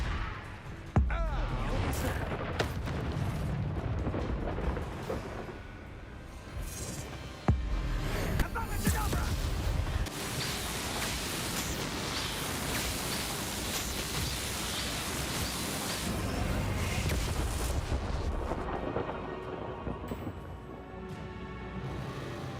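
Fiery Confringo blasting spells explode in Hogwarts Legacy, with several loud booming bursts and long stretches of crackling, rumbling debris noise between them.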